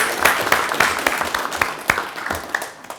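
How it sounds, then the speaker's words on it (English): Scattered round of clapping from a modest audience at a city mayor and aldermen meeting, distinct close handclaps tapering off over a few seconds. "Can we give a round of applause?"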